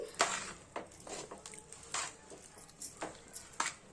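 A spoon scrapes and knocks against a hot pan while stirring a sticky peanut and jaggery mixture for palli patti. The clinks come in an irregular rhythm, close and fairly quiet, with no talk.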